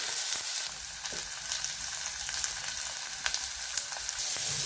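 Finely chopped capsicum sautéing in a pan for masala macaroni, a continuous soft sizzle with occasional light ticks of stirring, close and fairly quiet.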